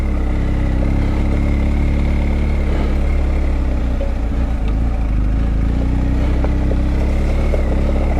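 A big adventure motorcycle on the rough Black Spur trail, its engine a loud, steady low rumble close by, droning evenly throughout with faint rattles and wind noise and no talking.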